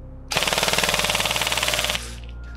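A G&G SRF 16 Enhanced Combat Machine airsoft AEG fires a single full-auto burst of about a second and a half, a loud, rapid, even mechanical rattle up close, followed by a brief whirring tail and quiet.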